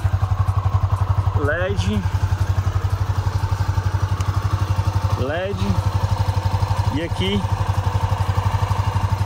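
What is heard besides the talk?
Honda CB 300F Twister motorcycle engine running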